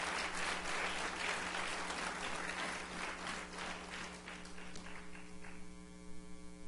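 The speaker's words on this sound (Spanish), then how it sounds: "Denle un aplauso fuerte para Él." A large church congregation applauds steadily, dense clapping that gradually thins out, with a low electrical hum running underneath throughout.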